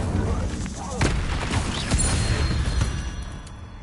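Incendio fire spell cast during combat in Hogwarts Legacy on PS5, with bursts of crackling flame and impacts over battle noise, loud and close.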